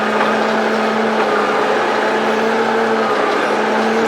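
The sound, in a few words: Zetor Major 80 tractor pulling away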